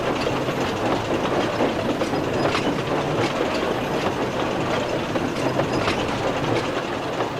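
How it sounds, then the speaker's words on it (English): A goods train rumbles steadily along the rails with a continuous rolling roar and faint rhythmic clacking of wheels, no voices. "Sandy was starting to arrange a goods train for Rebecca."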